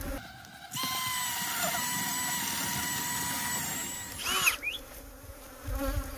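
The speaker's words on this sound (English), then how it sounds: "I'm going to drill a hole" A power drill whirs in a sustained high-pitched whine for several seconds, then stops, followed by faint rustling and a brief buzz.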